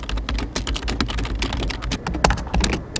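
Rapid typing on a computer keyboard, a steady close-up patter of key clicks with a few harder strikes, heard alone without talk.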